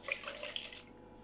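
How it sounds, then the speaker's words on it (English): Water poured from a jug into flour in a Pyrex bowl, a brief, quiet splashing pour lasting only a moment in a home kitchen. "all I'm going to do is I'm going to add the water."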